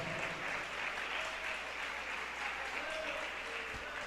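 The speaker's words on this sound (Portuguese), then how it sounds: "Pode aplaudir com alegria." A church congregation claps together in steady, dense applause during a worship service. The clapping is sustained and even throughout, with no pauses and no clear talk over it.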